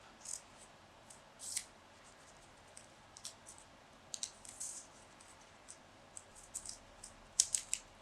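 Scissors snip through paper to cut flower petal shapes, giving a string of soft, quick, irregular cuts with short quiet gaps between them. Nobody speaks.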